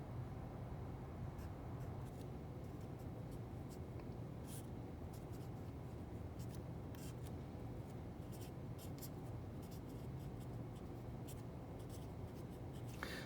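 Pen or pencil scratching across paper while working out a logarithm and trig identity by hand, a steady faint scribble of short strokes and taps over a low background hum, without speech.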